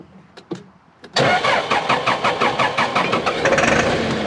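Backhoe diesel engine with a few short cranking bursts, then catching and running at a rough, pulsing idle, loud and close.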